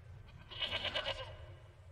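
A goat bleats once in a TV drama scene, a short wavering nasal cry heard close and clear over a low background rumble.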